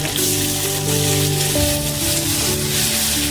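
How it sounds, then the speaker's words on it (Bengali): Bengali five-spice, ground cumin-ginger paste, two chilies and tomato sizzling in hot oil, a loud dense crackling hiss that stays steady throughout, near and alone, with a faint tonal hum underneath. "তেলে প্রথমে 5 ফোড়ন দেব, আর জিরে আর আদা বেটে রেখেছি দিয়ে দেবো, লঙ্কা দুটো দেবো, আর সঙ্গে টমেটো দিয়ে দেবো"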